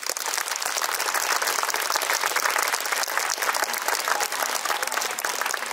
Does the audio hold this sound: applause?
yes